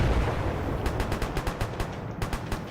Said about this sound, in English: I can't hear you over the gunfire.